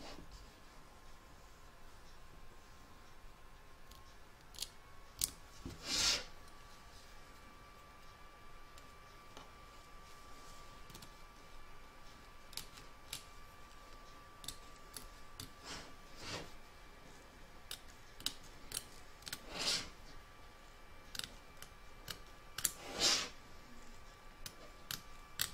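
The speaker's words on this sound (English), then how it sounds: "We're now going to trim out this area here and this area here where the hat trim goes." Scissors trim fabric around a reindeer applique where the hat trim will go, giving a few sharp, isolated snips that are faint and spaced far apart against a quiet room, with no talking.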